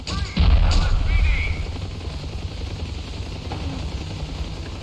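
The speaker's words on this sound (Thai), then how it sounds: "เฮ้ยเสียงอะไรวะเฮ้ยมีคนยิงปืน" A loud boom-like burst of gunfire in Ravenfield near the start, then a lingering low rumble with faint scattered noises, no clear talk.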